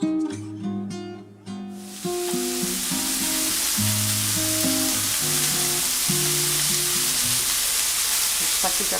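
Pork ribs brown in a large pan for Spanish brothy rice; after a brief quieter start with a stirring scrape, a loud, dense, continuous sizzle fills the rest, close and steady.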